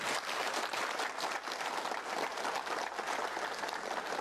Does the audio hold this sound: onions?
no